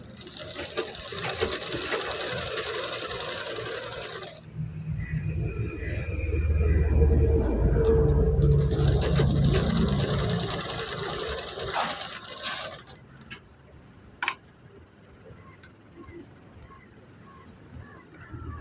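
A sewing machine stitches a folded fabric edge seam in steady whirring bursts, running for several seconds, pausing briefly, then running again, close and loud with a low mechanical rumble underneath.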